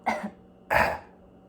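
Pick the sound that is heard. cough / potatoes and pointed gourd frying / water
cough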